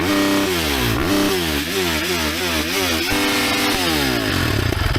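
A 2025 Ducati Desmo 450 MX motocross bike with a desmodromic engine that revs to 11,900 RPM: a loud, close, continuous buzzing engine note that rises and falls in quick repeated revs, alone without talk.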